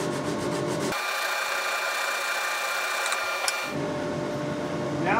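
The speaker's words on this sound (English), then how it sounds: "I'm only sanding the bit that I want to sand rather than messing up the top of the neck" Steady rasping scrape of a sandpaper block on a wooden guitar neck, continuous rubbing strokes close up, with a brief pause in the low rumble partway through.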